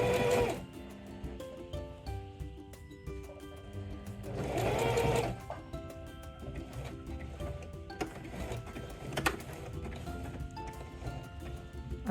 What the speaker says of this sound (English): continue to pivot and sew all the way to the other side